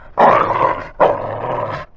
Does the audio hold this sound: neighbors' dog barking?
yes